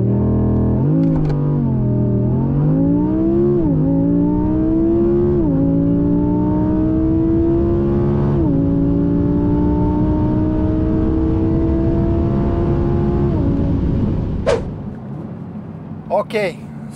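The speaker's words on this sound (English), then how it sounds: "The car launched perfect this time." An Audi R8 V10 Performance launches with traction control off and accelerates hard, its loud engine rising in pitch through several gear changes, with brief breaks between gears, before the sound cuts off and a few clicks follow.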